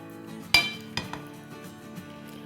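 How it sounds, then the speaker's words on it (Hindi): A few light clinks of utensils against a bowl while chicken nut salad is tossed, one sharp knock followed by softer taps, close and fairly quiet with no talking. "चले जी अब हम इसको अच्छी तरह से मिक्स कर लेते हैं।"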